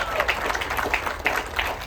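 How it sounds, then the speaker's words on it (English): Audience applause at an evening event aboard a Crystal Cruises D-Day special sailing: a dense, steady wash of many hands clapping close by, with a few voices mixed in underneath. "Ms. Luz, big round of applause."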